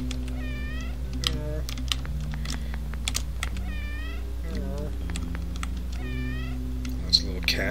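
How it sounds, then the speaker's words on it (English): Cats meowing in the video game OneShot, several clear rising-and-falling mews spread through the clip over a steady background hum, with scattered keyboard clicks and a person talking. "Oh, a cat. Are you lost?"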